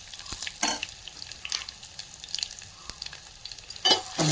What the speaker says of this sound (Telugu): అన్నీ ఫ్రై అయ్యాయి.